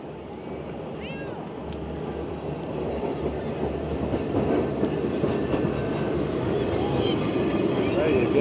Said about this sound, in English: This is what they all want to see. This is the tram.